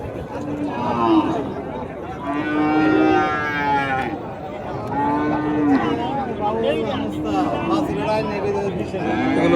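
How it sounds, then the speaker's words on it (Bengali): Jersey, Friesian and Australian-breed dairy cows low repeatedly at a cattle market in Muktagacha, several long moos close by, while people talk over them in the background. "জার্সি আছে অস্ট্রেলিয়ান জাতের গরু যে একটা দেখতে পাচ্ছেন"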